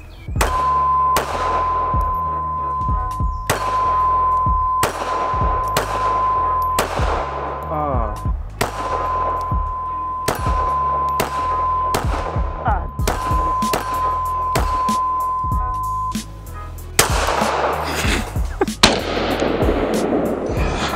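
Ruger LC9s 9mm striker pistol fitted with a red dot, fired outdoors in a steady series of sharp, loud shots with ringing echoes, a steady high tone running beneath, and a denser burst of shooting near the end.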